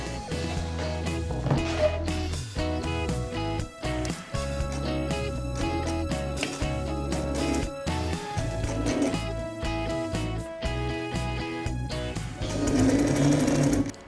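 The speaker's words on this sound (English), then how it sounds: "And now we're going to top stitch from one side towards the other." A sewing machine topstitching the cuff of a linen blouse runs steadily and close, its fast rhythmic stitching continuous with brief changes in pace and no talking.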